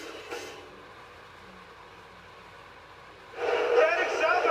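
Chicago CTA Blue Line train heading south, a quiet rumble that swells into a loud, close roar of the passing train in the last second or so.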